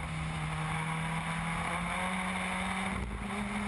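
A race car engine drones on the Brands Hatch GP circuit, heard as a steady, loud, continuous onboard roar with heavy wind rush around the corner from Druids to Graham Hill bend.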